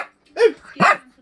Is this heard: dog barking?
yes